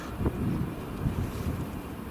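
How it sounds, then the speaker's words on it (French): Wind gusts buffet the microphone outdoors, with low rumbling bursts rising and falling over a couple of seconds, close and fairly loud, with no voices. "Il y a beaucoup de vent là de ce côté-là."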